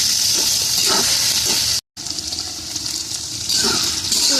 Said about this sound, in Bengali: ডাঁটাটা আমার হয়ে গেছে ভাজা।